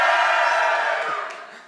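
A conference audience roars and cheers loudly at a talk, a dense sustained wall of crowd noise that slowly fades.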